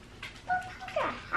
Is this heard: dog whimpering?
yes